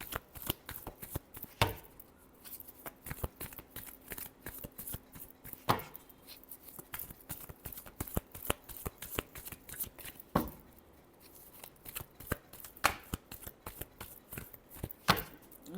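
Tarot cards being shuffled by hand, a steady run of crisp riffling and slapping strokes with brief pauses, close and fairly quiet, with no talking.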